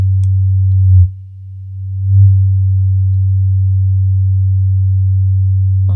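A synthesizer holds a steady low tone while its filter roll-off is adjusted, the timbre swelling and shifting twice before settling, loud and alone.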